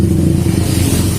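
A loud, continuous motorcycle engine roar close by, with a dense rattling, clattering texture like loose coins layered over the low drone, from a worn roller chain guide.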